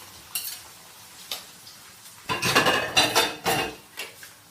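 Cubed potatoes drop into hot oil in a home kitchen, where a rabbit dish is being cooked. A quiet stretch with a few clinks of metal utensils gives way to a loud, rough sizzling burst that comes in pulsing waves, close by.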